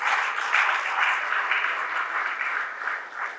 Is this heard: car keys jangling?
no